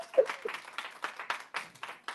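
Sparse clapping from a small group, irregular claps spread evenly, fairly close and moderately loud.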